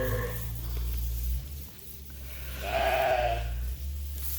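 A sheep in a barn gives a clear, close bleat in the middle of the clip over a steady low background hum.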